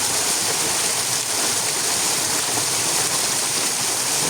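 Water rushes loudly and continuously inside a cave, a dense roaring flow like a strong stream or small waterfall close by.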